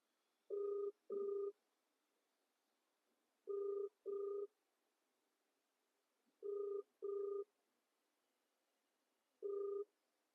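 A phone call rings out: quiet, clean double electronic ring tones repeat about every three seconds, four bursts in all with the last one single, over near silence.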